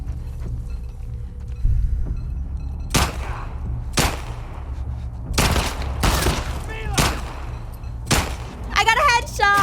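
Gunfire in The Last of Us Part II, separate loud shots at irregular intervals, about seven sharp cracks over a low rumbling bed, with voices heard in between.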